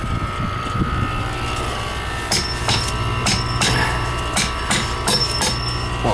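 An oversized 4-ton heat pump compressor with no refrigerant gas runs with a steady low hum, while sharp metallic taps and knocks recur throughout.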